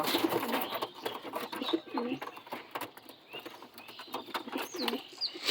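Madras pigeons give repeated soft, throaty coos in an uneven rhythm, close by, over faint background noise and an occasional chirp.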